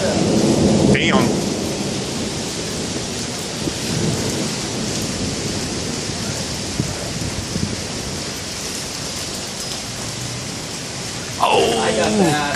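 Thunderstorm in Wimberley with steady heavy rain hissing throughout and deep rumbling thunder rolling underneath; brief voices break in at the start and near the end.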